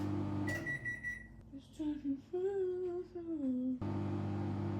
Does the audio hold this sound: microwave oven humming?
yes